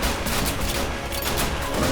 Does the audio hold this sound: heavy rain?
no